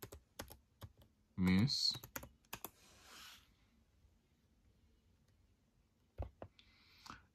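Keys tapped on a Chromebook keyboard in short, scattered clicks with a brief louder clatter, close by, and a person speaking briefly in between.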